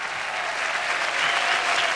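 Applause from a carnival audience at the 1995 Vinaròs Carnaval, a steady dense wash of clapping that holds evenly across the whole stretch with no voices standing out.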